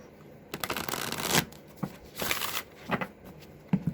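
Tarot cards riffle and shuffle in quick, papery bursts close to the ear, a few rapid rounds with brief pauses and taps between.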